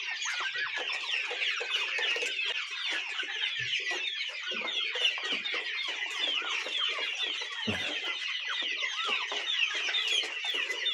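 A coop of two-month-old chicks chirps and clucks continuously, many birds calling at once in a steady, busy chorus with no talk over it.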